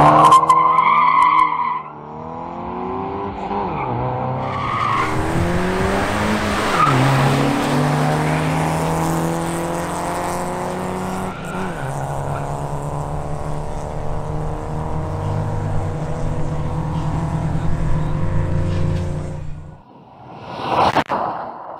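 A BMW M240i xDrive launches hard down a drag strip, engine revving up through rising gear-change harmonics with tire noise, loud and sustained for nearly twenty seconds before fading.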